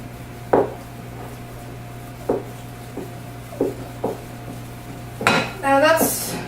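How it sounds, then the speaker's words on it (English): Lava cake batter mixed in a bowl, with a handful of spaced clinks and scrapes of utensil against the bowl, ending in a louder burst of clattering; close and fairly loud, with a hum underneath. "Now just mix them all together until they're evenly combined."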